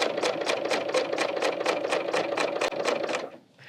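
A Bernina L890 serger stitches a rolled hem along a curved fabric edge, a fast even rhythmic chatter of about four beats per second, close and loud, stopping abruptly at the end.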